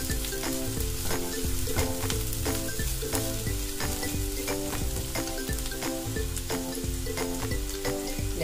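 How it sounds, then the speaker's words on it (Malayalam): Onion and green chillies sautéing in a pan, a bright continuous sizzle punctuated by rhythmic spatula stirs and taps against the pan, close and without speech. "ഉള്ളി നല്ലവണ്ണം ഒന്ന് വഴുത്ത്"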